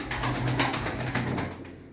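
Young pigeons cooing at a pigeon auction in Şenyurt, Mardin: low, soft, repeated coos close by, set against a busy, noisy room.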